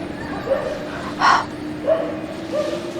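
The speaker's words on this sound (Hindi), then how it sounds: "कुत्ते इतने जोर से भौंक रहे हैं।" Dogs bark and yip in short bursts during a night-time grave ritual, sounding somewhat distant over a steady hum, with a few whimpering cries between the barks.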